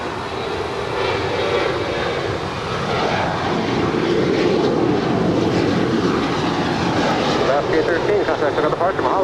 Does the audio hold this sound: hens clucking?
no